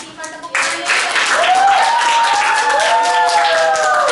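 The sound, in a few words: classroom applause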